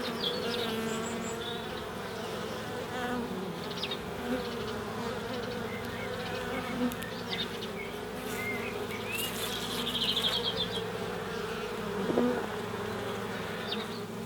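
Honeybees buzzing around an open hive during a frame inspection, a dense steady hum from many bees close by, with occasional louder passes near the ear and no speech.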